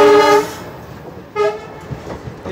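A Jaipur–Sri Ganganagar passenger train sounds two loud, sustained horn blasts, the first near the start and a shorter one after a pause, over a steady low rumble of rolling rail wagons.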